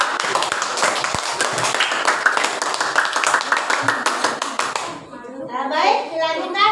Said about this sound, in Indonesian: Yuk kasih tepuk tangan dulu.